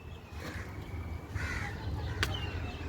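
In the leafy garden of Humayun's Tomb in Delhi, a few crows caw in short, scattered calls over a low outdoor hum, moderately distant, with no talk.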